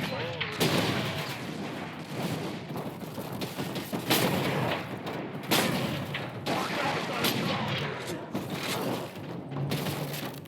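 Gunfire in the video game Space Marine, with repeated loud, booming shots and crackling bursts throughout, some heavier blasts standing out, with voices talking between.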